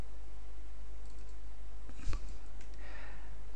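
Mouse clicks from a computer during WordPress plugin setup, one sharp click near the middle over a quiet room hiss.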